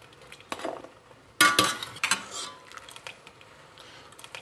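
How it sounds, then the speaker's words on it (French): Cooked green beans lifted out of a pot with a metal skimmer during paella preparation, a few sharp metallic clinks and scrapes in short irregular bursts, moderately close, with no talk. "Je vais les passer à l'écumoire."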